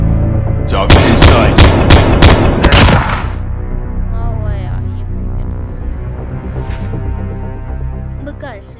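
Rapid burst of loud, close gunfire in the Call of Duty video game, five or six sharp shots in quick succession, then fading into a low rumbling hum with faint voices.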